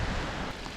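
A brief burst of loud, roaring wind noise blasts across the microphone on a snowy mountain bike trail on Orcas Island, steady throughout.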